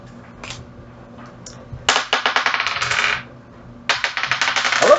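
Dice are rolled and dropped onto a surface in two separate bursts of rapid rattling clatter, close and fairly loud, with a short quiet gap between them.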